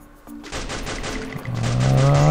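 Gunfire in the Free Fire battle royale game: a dense, continuous burst of rapid shots filling the clip, loud and close, with a rising engine-like tone underneath toward the end.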